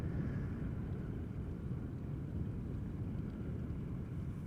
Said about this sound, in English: somewhere over there in the distance should be an Emirates A380 on its base leg approaching the glide slope of the center runway